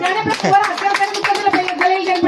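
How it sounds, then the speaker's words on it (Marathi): Children at a school quiz competition clap in quick, rhythmic bursts, close by, mixed with their own voices. "टाळ्या वाजवायच्यासाठी."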